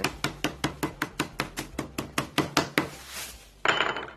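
Chicken pieces being pounded flat for Jamaican fried curried coconut chicken, about fourteen sharp, even thuds in a steady rapid rhythm, close and loud, then a brief rustling scrape.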